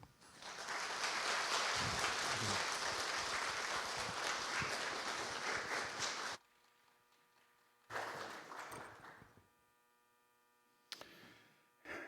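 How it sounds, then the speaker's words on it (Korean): A church congregation at a Sunday worship service claps to welcome an elder to the pulpit, a full, steady round of applause lasting about six seconds, then quiet with a couple of brief scattered bursts of clapping. "우리 박수로 환영할까요?"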